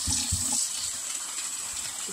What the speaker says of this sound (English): I'm going to wash the malagkit.